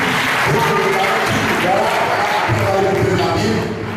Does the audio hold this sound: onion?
no